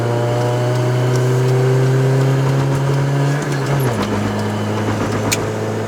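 Engine of a 2007 Proton Saga with a five-speed manual held under light throttle, a steady mid-pitched hum that drops in pitch partway through as the car settles into cruising, heard from inside the cabin.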